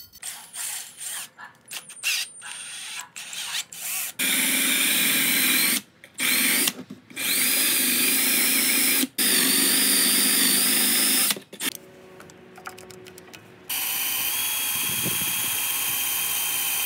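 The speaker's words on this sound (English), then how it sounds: "wire brush wheel and my drill" A power drill spins a wire brush wheel against a very rusty metal file, running in bursts of loud, steady whirring and scrubbing separated by short pauses and quieter handling noises.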